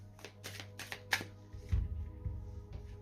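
Oracle cards being shuffled for a card reading, a quick run of riffling flicks followed by a few soft thumps as the deck is squared, close and fairly quiet.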